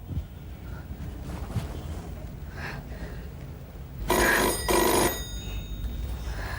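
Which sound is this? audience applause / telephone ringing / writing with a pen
telephone ringing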